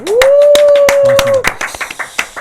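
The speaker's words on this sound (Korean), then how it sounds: "여기서 박수 한번 쳐드릴게요." A few studio hosts clap in short, sparse bursts on a talk show, sharp claps under a sustained sung or hummed tone at first, then scattered single claps.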